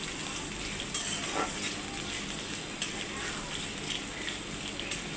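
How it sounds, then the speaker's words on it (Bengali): Chopped onions frying in a pan for a spiced beef tripe dish, a steady soft sizzle with occasional scraping stir sounds rising over it, fairly close and even throughout. "পেঁয়াজ কুচিগুলো নাড়াচাড়া করতে থাকলাম।"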